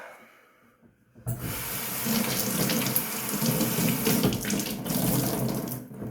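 Water pours steadily from a sink tap during a rinse after a head shave, starting abruptly after a second of near silence and running loud and close without a break, no voices.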